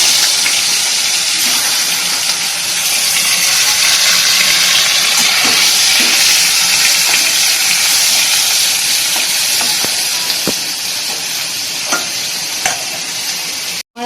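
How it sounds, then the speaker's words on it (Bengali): Steady, loud sizzling of koi fish (climbing perch) frying in hot oil, a continuous hiss with occasional crackles and pops, no voices. "বাকি মাছগুলো সব ভেজে নেবো"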